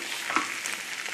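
Rinsed rice frying in a pan with onion and sausage, stirred with a soft scrape over a continuous quiet sizzle, one brief clink in the middle.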